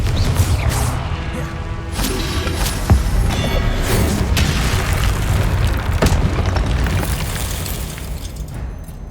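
Confringo fire spell blasting in Hogwarts Legacy, a sustained roaring explosion with deep rumbling booms and crackling bursts that fill the whole stretch, loud and close, with no talk over it.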